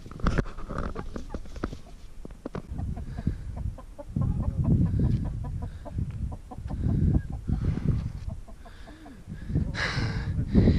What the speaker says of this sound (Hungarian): itt a csirke meg a kakas beszélget egymással